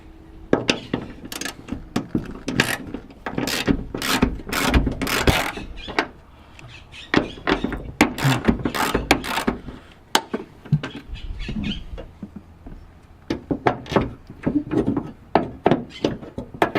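A ratchet loosens hood bolts on a Ford F150 in bursts of close, sharp clicking and metallic knocks, separated by short pauses and light handling noises.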